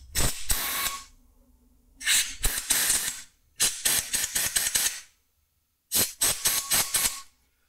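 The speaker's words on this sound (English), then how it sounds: "I've got some compressed air, and I'm gonna see if I can clear it with the, with a bit of compressed air." A can of compressed air blows on the camera of a 1996 Honda VFR750F motorcycle in loud, close, hissing blasts. They come in four clusters of short, rapid sprays with silent gaps between.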